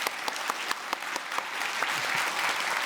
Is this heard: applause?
yes